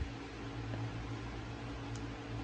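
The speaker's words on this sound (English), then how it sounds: "I'm sorry about the noise from my fan" A steady, low hum and whoosh of an electric fan running close by, constant and unchanging, with no voices.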